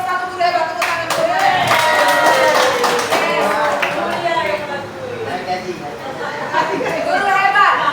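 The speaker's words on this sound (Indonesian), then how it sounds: "Tepuk tangan dulu." Audience clapping hands at a school gathering of teachers, scattered claps mixed with chatter and voices talking over them, fairly close and continuous.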